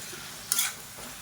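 Vegetables sautéed with sambar powder in a pan for tiffin sambar, heard as a single short stirring scrape with a faint sizzle, quiet and over almost at once.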